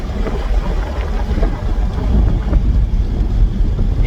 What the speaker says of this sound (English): that provides more wind noise in here as well, which is to be expected as you put the windows down